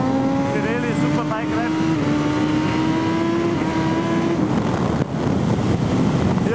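Superbike of over 205 hp on Pirelli tyres lapping the 4000-metre Circuit Zolder race track; a loud engine note rises steadily in pitch, then drops sharply, with wind buffeting and someone talking over it.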